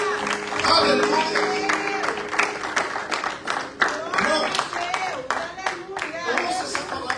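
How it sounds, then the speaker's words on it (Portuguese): A church congregation applauding, scattered claps rising and falling beneath a voice and crowd murmur that carry on throughout. "Pode aplaudir o Senhor bem forte."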